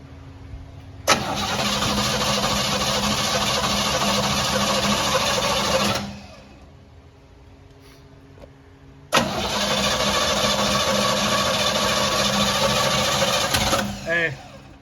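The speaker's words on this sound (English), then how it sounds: "we'll hook it up and crank it over and see if it'll fire" A 1957 Chevy engine cranks over in two long bursts of steady, loud starter churning separated by a quiet pause, trying to fire after a new Wix fuel filter and fuel hose were fitted.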